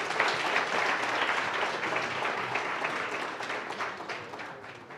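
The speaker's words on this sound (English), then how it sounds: "Give yourselves a round of applause" An audience at a business workshop in Katlehong breaks into applause: dense, sustained clapping that stays fairly loud for the whole stretch and eases slightly near the end, with no talking over it.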